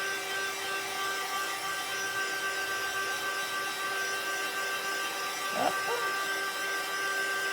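A spray gun applying pearlescent acrylic paint gives a steady, airy hiss with a constant whine, running continuously and close; a brief voiced exclamation breaks in near the end.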